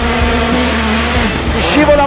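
A Peugeot 208 T16 four-wheel-drive rally car drives hard on snow, its engine loud and close, holding a steady roar that shifts pitch as the car slides and picks up speed.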